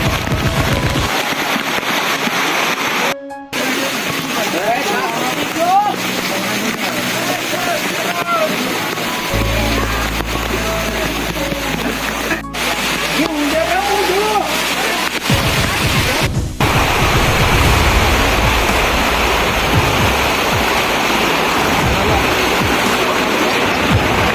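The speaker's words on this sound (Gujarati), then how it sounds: "મિત્રો તમે જોઈ શકો ઠેર ઠેર લેકિન આવું જ પાણી ચાલુ છે" Rainwater rushes down the rocky slopes of Girnar mountain in Junagadh with a continuous loud roaring wash, close by and unbroken, while faint sputtering splashes shift through it.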